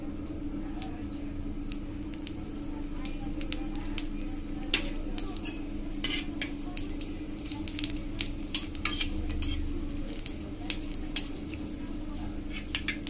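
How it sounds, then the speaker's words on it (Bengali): Whole cumin seeds and dried red chillies sizzling in hot mustard oil, a steady low fry hiss with frequent light clinks and scrapes of a utensil against the pan throughout. "তেলটা খুব ভালো করে গরম হয়ে গেলে দিয়ে দেবো গোটা জিরে আর শুকনো লঙ্কা"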